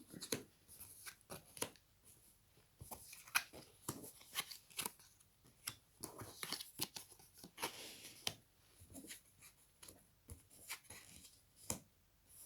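Tarot-style cards are turned over and slid around on a table: a continuous run of quick, close papery flicks, slaps and rustles in irregular bursts, fairly quiet, with no talking.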